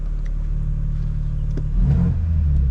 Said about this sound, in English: You can noticeably hear the exhaust getting slightly louder.